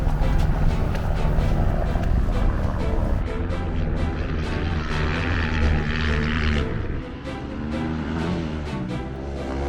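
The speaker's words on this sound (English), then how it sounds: "there's a heli coming in this direction" Helicopter approaching during a Dakar rally stage in the Saudi Arabian desert, a loud, steady broadband engine and rotor roar that grows slightly fuller and then drops back toward the end, heard without speech.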